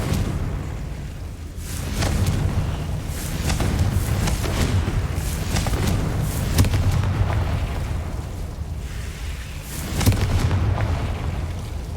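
Fire spell explosions in the video game Hogwarts Legacy (Confringo), several booming bursts at a few seconds' interval over a continuous low rumble of game sound.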